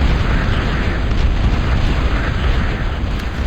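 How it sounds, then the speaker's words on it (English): Bombing-run explosions in a video game, a continuous loud rumbling barrage of booms with dense low roar throughout. "Coming through with that bombing run now."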